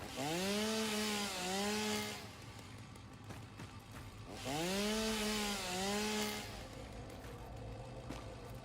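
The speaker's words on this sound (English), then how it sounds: "I still think they really nailed the sound of the chainsaw." A video-game chainsaw cutting wood revs up in two loud bursts, each rising whine settling into a buzzing drone before dropping to a rattling idle, with quieter mechanical game sounds between.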